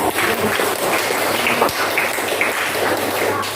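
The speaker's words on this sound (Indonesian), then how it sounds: "tepuk tangan untuk kelompok 2" Classroom students clapping for a presenting group: a fairly loud, steady burst of hand claps close by, with a few sharper individual claps in it.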